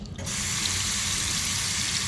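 A bathroom sink faucet gushes and splashes water onto hands in a steady, loud rush that begins abruptly and runs unbroken.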